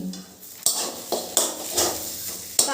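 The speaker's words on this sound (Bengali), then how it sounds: "তারপরে চিনিটা শাকের সঙ্গে মিশিয়ে নিলাম" A metal spoon stirs sugar into vegetarian taro leaf greens cooked with ground pea lentil paste in a pan, making about six sharp, irregular clanks and scrapes against the pan, close and fairly loud, with no talking.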